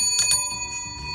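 A bell on a vintage Raleigh bicycle rings twice in quick succession, bright and metallic, then leaves a faint, steady ringing tone that lingers to the end.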